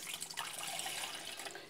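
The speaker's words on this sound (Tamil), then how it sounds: "அதில் வந்து 1 கிளாஸ் தண்ணி நான் ஊற்றிக்கிறேன்." Water poured from a glass into a cooking pot while preparing a herbal karpooravalli leaf kashayam, a steady close splashing stream lasting under two seconds with no talk.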